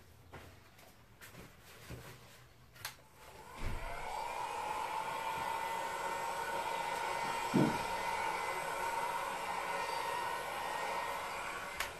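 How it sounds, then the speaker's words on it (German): A hair dryer blows steadily over an acrylic pour painting on a 60x60 cm canvas, switching on after a few seconds of light handling noises and then running as a constant loud airy whir with a brief bump midway. "Föhne ich noch mal drüber."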